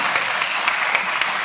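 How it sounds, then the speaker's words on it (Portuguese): Church congregation clapping for the Lord during a service, a steady dense wash of applause with a few sharper claps standing out, continuous and fairly loud throughout. "Vamos salvar palmas ao Senhor se você quiser."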